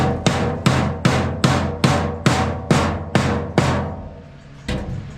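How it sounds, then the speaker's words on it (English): Nine sharp metallic hammer blows ring out on sheet metal for a handmade car trunk floor, at a steady rhythm, each leaving a bright ringing decay, then a brief pause before one more strike. "I'll come in and I'll bring my hammer"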